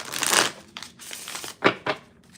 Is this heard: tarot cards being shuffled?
yes